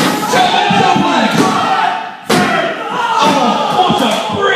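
A wrestler hits the mat hard after a jumping suplex in a wrestling match, a sharp thud halfway through over loud crowd noise, with a commentator talking throughout.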